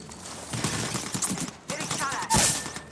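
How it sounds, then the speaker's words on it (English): Gunfire in the battle royale game Apex Legends crackles in quick irregular bursts, fairly close, with a sharper loud shot near the end among busy game sounds. "The enemies are shooting at me."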